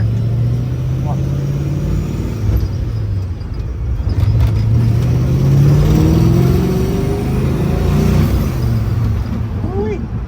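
Engine of a 1965 Malibu with twin TorqStrom superchargers, driven on the road: a steady loud rumble with rising and falling revs throughout, continuous and close.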